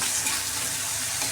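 Ghima greens, a bitter leafy vegetable, fry in a pan with a continuous broadband sizzle that stays loud, close and even throughout a brief moment, with no voices.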